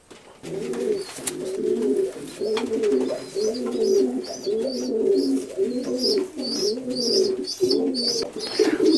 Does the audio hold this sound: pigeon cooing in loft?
yes